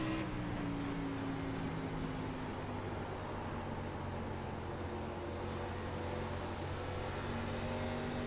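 Race car engine droning at Phoenix in the iRacing game, an ARCA Menards Series stock car holding a steady loud roar with a slowly shifting pitch throughout.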